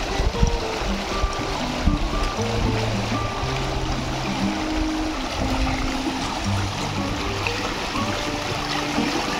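Steady, loud rush of water flowing in a stream near a hidden waterfall in Kokan, a continuous broadband wash with low tonal hum threaded through it, no voices.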